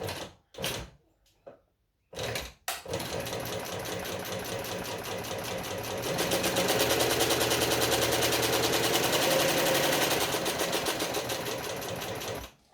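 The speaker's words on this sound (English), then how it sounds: "we're going to sew up the bottom" A sewing machine runs in a long steady burst as it stitches along the bottom of a bag pocket, loud and close, following a few short starts and stops at the beginning, with no talking.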